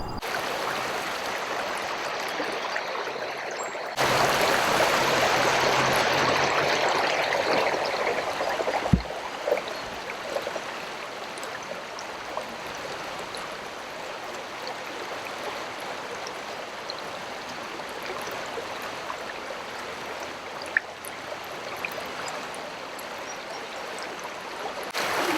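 Fast-moving river water with chop on the New River, a continuous rushing and gurgling flow heard close by, with a brief louder splashing surge near the start.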